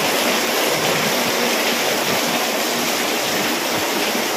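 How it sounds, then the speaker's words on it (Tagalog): Heavy rain pours down in a dense, unbroken roar, loud and close for several seconds with no voices over it. "Wala, ibubuhos ang ulan."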